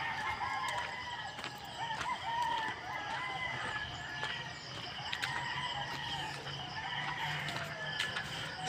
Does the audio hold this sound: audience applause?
no